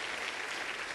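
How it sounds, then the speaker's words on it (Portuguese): Congregation applauding in a church, a dense wash of many hands clapping at once, steady and fairly close for a brief moment with no talk. "Vamos aplaudir esse pastor?"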